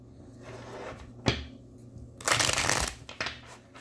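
Tarot cards are handled and shuffled up close: a sharp snap, then a louder riffling burst of card flutter lasting about half a second, followed by a few softer taps.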